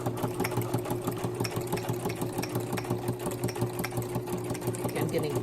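A sewing machine runs a steady zigzag stitch along the edge of fabric for a traveler's notebook insert, a continuous rapid mechanical whirr with rhythmic ticking, close and unbroken.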